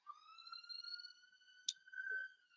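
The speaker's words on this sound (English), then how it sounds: "excuse me if you can hear the siren going past." A siren passes outside, heard faintly indoors as a long, steady wailing tone that glides slowly upward, with a soft click partway through.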